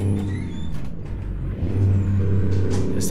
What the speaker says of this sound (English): You guys hear that jake brake? Or engine brake, however you guys want to call it.